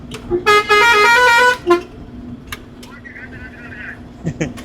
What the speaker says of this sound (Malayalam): ഹോൺ ഹോൺ ഹോൺ ഹോൺ അടിക്കാം